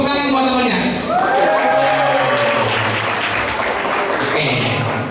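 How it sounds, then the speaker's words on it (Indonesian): Students clapping for a classmate at a school seminar run by police in a high school hall, a full burst of applause from the crowd that holds steady for several seconds, with people talking over it. "Ya, tepuk tangan buat temannya."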